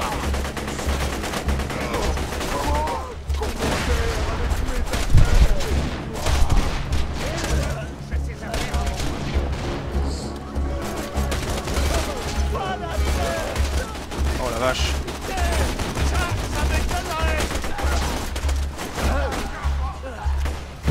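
A deployed turret in Borderlands 2 keeps up steady automatic fire through a chaotic battle, with continuous rapid shots, scattered booms and mixed combat noise under intermittent talking.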